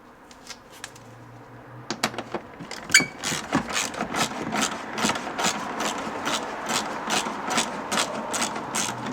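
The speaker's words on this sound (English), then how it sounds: "a 10mm socket and a ratchet is all you really need" A ratchet with a 10mm socket and extension, used while fitting a fourth brake light on a GR86/BRZ, clicks in a fast, steady run of sharp close ticks that starts sparse and becomes continuous.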